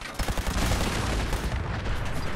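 Automatic rifle gunfire in a video game firing against a super mutant, a rapid loud burst of shots lasting a couple of seconds.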